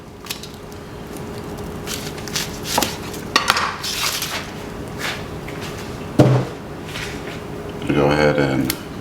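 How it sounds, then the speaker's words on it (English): Knife chopping the ends off a red onion on a kitchen board, a few scattered knocks and scrapes with a louder cut near the end, close by under occasional speech. "Cut each end off."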